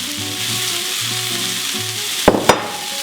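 Unpeeled whole garlic cloves, about forty of them, sizzle loudly and steadily in a hot pan, with two sharp clattering knocks near the end as the cloves land or get stirred.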